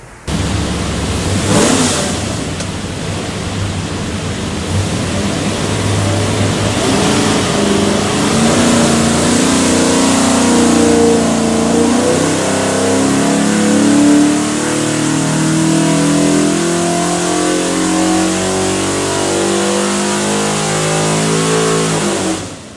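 A Ford 347 V8 with Holley Sniper 2 EFI, built for a 1964 Falcon, roars through a full dyno pull, climbing steadily from a brief startup rev into a loud, sustained high-rpm wail before cutting off abruptly, no talking.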